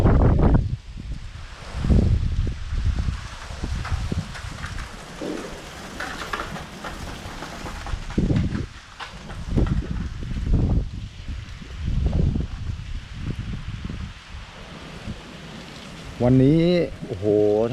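Stormy weather in Lopburi, Thailand, with gusty wind and rain rushing through leaves, loud buffeting bursts against the microphone, and someone talking over it throughout.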